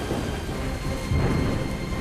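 Heavy rain roars steadily with deep rumbling thunder beneath it, loud, dense and unbroken, staged as part of a dramatized flood story, with no voices.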